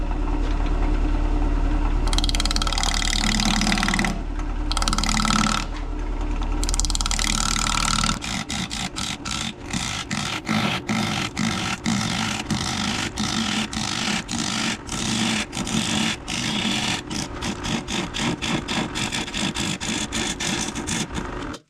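A wood lathe spins a workpiece at roughly 1,000 RPM, first with a steady motor hum, then with rapid, irregular scraping and chattering as a tool hollows it out close by.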